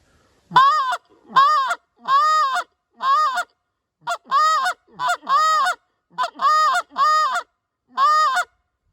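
A short reed Canada goose call blown in a quick hick-haw sequence: about a dozen loud, close, reedy honks in steady rhythm with brief gaps between them.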